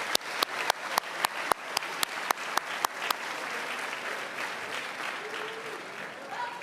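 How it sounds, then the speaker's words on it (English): At a West Point summer leadership graduation, cadet candidates applaud their parents, beginning with about a dozen evenly spaced loud claps in unison, then dissolving into a softer, sustained crowd applause. "but give them a huge round of applause"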